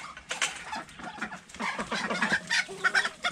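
Chickens and a rooster cluck nearby in a farmyard with ducks, giving a busy run of overlapping clucks and short calls.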